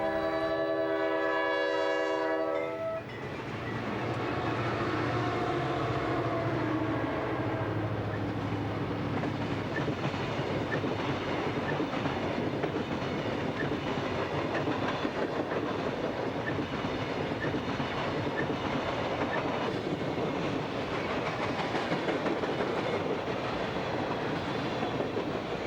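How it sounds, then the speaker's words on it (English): An empty westbound coal train heading back toward Wyoming's Powder River Basin passes a few miles east of an Iowa town, opening with a loud horn blast, then a long steady roar and rattle of wagons rolling close by. "the first train that we saw was a westbound coal train, an empty train which was heading back for the Powder River Basin of Wyoming"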